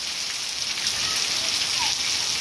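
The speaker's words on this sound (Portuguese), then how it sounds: "uma forte chuva, pessoal, nesse momento cai aqui no distrito de Amaniutuba" Heavy rain falling at night in the district of Amaniutuba, a dense, steady hiss of downpour filling the scene with no break.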